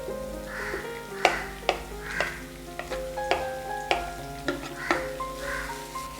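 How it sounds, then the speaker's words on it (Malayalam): Thin-sliced onion sautéing in a pan for prawn molly gives a steady sizzle, broken by about ten sharp scrapes and knocks of a spatula stirring against the pan at a fairly even pace. No one speaks. "നമുക്കിത് നല്ലോണം സോട്ട് ചെയ്തെടുക്കാം."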